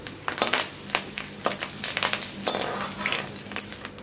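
Curry leaves frying in hot oil for a Kolhapuri bhadang tadka, a close steady sizzle broken by bright crackling pops and spatters throughout.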